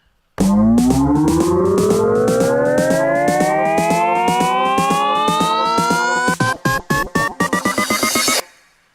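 A synth riser sweeps steadily upward in pitch, pulsing with rhythmic gated chops that grow faster and choppier before cutting off abruptly.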